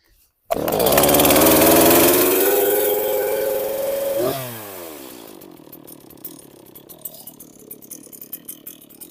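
A Stihl chainsaw started in Swedish firewood season pulls to life with a loud roar, revs high for a few seconds, then drops to a rough, sputtering idle with uneven pops.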